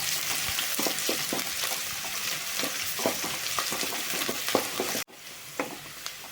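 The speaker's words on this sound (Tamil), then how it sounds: "வெங்காயத்தை நல்லா வதக்கிக்கோங்க." Onions sizzling and frying in a pan with curry leaves, a steady crackling hiss with intermittent stirring clicks from a spoon, close and fairly loud, cutting off abruptly near the end before resuming more quietly.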